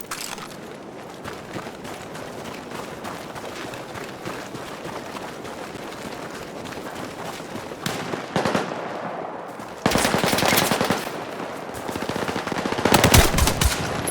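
Automatic and single-shot gunfire in the video game Battlefield 6, steady bursts of rapid shots through the first half, then louder, denser volleys with sharp cracks near the end.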